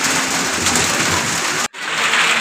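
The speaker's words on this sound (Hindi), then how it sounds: "लेकिन अभी तो बारिश हो गई" Steady, dense rain falls in a village during Eid, a loud continuous wash that cuts out for an instant before resuming.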